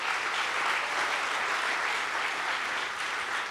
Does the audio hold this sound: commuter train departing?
no